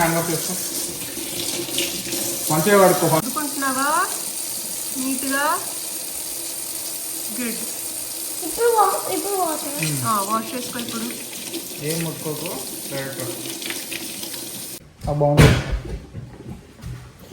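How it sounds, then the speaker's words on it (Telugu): Tap water runs steadily to fill a home aquarium, a continuous hiss under repeated bursts of talk, ending with a brief clunk near the end. "ఇక్కడైతే వాటర్ పోసి నింపుతున్నాం"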